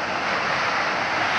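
Steady rushing water from the Falling Foss waterfall roars without a break, a dense broadband wash of falling water heard from nearby.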